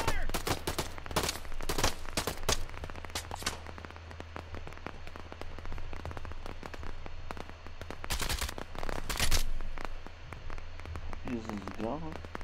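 Automatic gunfire in the multiplayer shooter Operation Harsh Doorstop crackles in rapid bursts and sharp single shots, some loud and close, others more distant, while players talk over the fighting.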